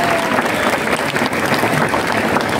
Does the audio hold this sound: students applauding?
yes